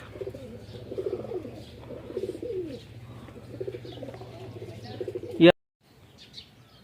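Racing pigeons coo in soft, rhythmic, low bursts at a pigeon race tournament, fairly close, with a steady hum underneath, a sharp loud knock near the end, then near silence.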